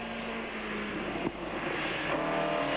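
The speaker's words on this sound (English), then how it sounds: "As through comes John Kent, the reigning champion then, who's driven a champion's race" A TVR Tuscan race car roars along the track in a 1996 Tuscan Challenge race, its engine a steady, loud drone that swells slightly as it passes and pulls away.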